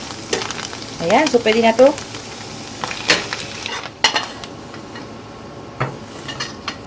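Vegetables stir-frying with garlic in sesame oil in a pan, sizzling under a spoken voice, with clanks and scrapes of a utensil against the pan.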